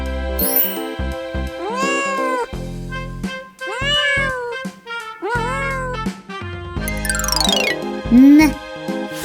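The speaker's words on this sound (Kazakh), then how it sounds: "Мысық." Cat meowing several times, drawn-out rising and falling cries over continuous background music, followed by a sliding high tone, close and clear.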